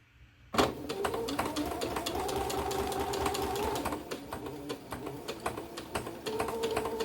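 A sewing machine stitches fabric for a junk journal cover, a close, steady rapid clatter of the needle that slows and pauses briefly near the middle before running on at a quieter pace.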